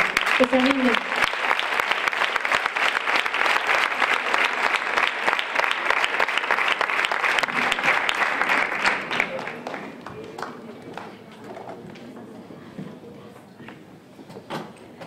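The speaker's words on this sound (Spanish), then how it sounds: "Un aplauso para ellas." A crowd applauds two women at a farewell, dense clapping at first that thins and fades over the second half, with a voice briefly heard early on.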